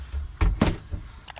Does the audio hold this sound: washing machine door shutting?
yes